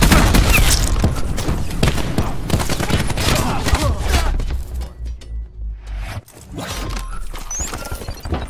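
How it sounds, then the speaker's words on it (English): Frag grenade blast and rapid gunfire from a Call of Duty: Black Ops 4 story mission on Xbox One, a dense loud barrage of shots and booms that thins briefly before resuming. "Have eyes on. Throwing frag."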